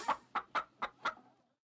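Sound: chickens clucking, from video game PAW Patrol Rescue World

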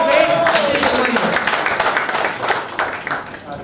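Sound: audience applause for poet at poetry event

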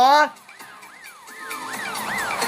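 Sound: siren wailing

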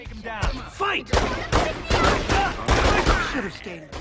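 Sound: pistol gunfire in video game The Godfather 2

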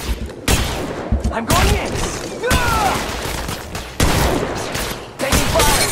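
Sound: gunfire from attacking squad in video game Apex Legends Mobile

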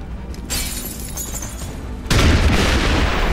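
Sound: shooting and destroying a target in XCOM 2 video game

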